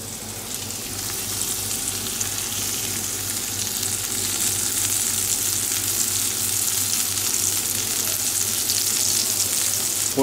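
Poivrade artichokes fry gently in a pan, giving a steady, even sizzle that holds at a constant level throughout, close and unbroken, with no voices over it.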